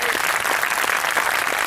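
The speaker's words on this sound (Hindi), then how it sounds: "ताली बजा दो।" An audience bursts into dense, steady applause, many hands clapping together at full volume for the whole short stretch with no voices rising above it.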